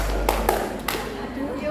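Hand clapping during a classroom exercise gives three distinct claps spaced unevenly over about a second, set over background room hum and faint voices.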